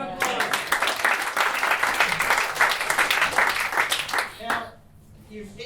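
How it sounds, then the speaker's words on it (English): An audience at a FRINGE WORLD festival comedy show bursts into applause, dense rapid clapping that holds steady for about four seconds before thinning out and fading into quiet. "Give her a round of applause."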